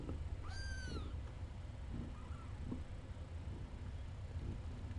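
A kitten gives one clear, rising meow early on, then fainter squeaky calls follow over a steady low background hum, with no talking.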